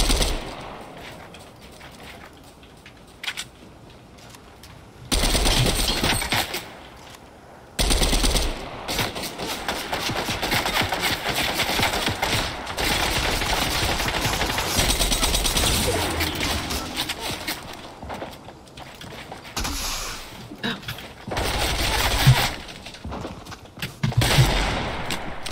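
Dense bursts of rapid gunfire in Fortnite crackle for long stretches, broken by brief quieter gaps, with scattered single shots near the end.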